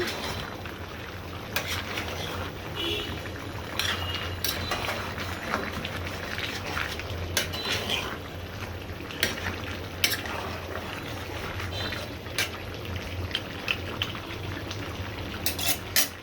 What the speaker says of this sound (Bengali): মাংসটা আরেকটু কষিয়ে নিতে হবে, একদম তেল বেশি উঠবে উপরে।